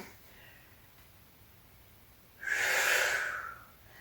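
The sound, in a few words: exhaling during weight lifting exercise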